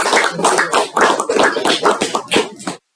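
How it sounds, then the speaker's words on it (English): A small audience at a Toastmasters meeting gives a brief burst of applause, close and loud, with dense overlapping claps lasting under three seconds before stopping abruptly. "Please give a round of applause to Chandrasekharji, speaker."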